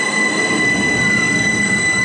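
The Trenino Rosso red train runs along the road at Le Prese, a loud close rumble with steady high wheel-squeal tones sustained throughout and no talk.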